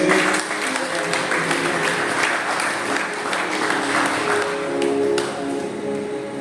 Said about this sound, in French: On applaudit les citoyens.